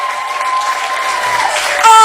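Crowd applause fills a gospel music event, a continuous rush of clapping from many people beneath a strong sustained voice, swelling louder at the very end.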